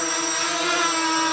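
A Flying 3D X6 quadcopter is airborne, and its rotors give a steady, close, high-pitched buzzing whine with no talk over it.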